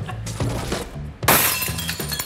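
A pane of ordinary, brittle glass shatters in a sudden loud crash after a few dull knocks, followed by tinkling fragments settling close by.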